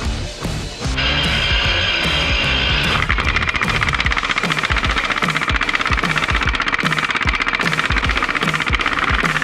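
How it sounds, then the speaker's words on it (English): A 40 volt cordless impact wrench drives a huge fastener at a busy concrete trade show, hammering in a loud, rapid, continuous rattle for several seconds. "You're able to get this 40 volt impact wrench and drive this huge fastener here"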